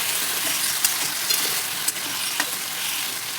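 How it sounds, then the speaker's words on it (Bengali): Potato pieces fry in hot oil seasoned with salt and turmeric, giving a steady bright sizzle up close, punctuated by several short stirring clacks and pops, with no speech. "এবার আলুগুলো আমি ভেজে নিচ্ছি"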